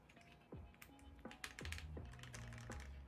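Keystrokes on a HEX 3CV2 mechanical keyboard, a handful of crisp, close clacks in an uneven rhythm, quiet overall with a faint steady hum underneath.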